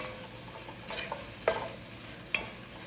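Spoon stirring chicken with spices in a pot for Filipino-style white soup, giving soft scraping strokes and a few sharper clinks over a faint steady sizzle, close and fairly quiet.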